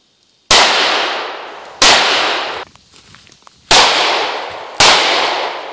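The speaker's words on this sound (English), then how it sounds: "Then reinsert your mag into the gun, charge it, shoot it, give it a try." A Kahr CW9 9mm pistol fires four loud, sharp shots close by, in two pairs with a short pause between, each crack trailing off in a ringing echo.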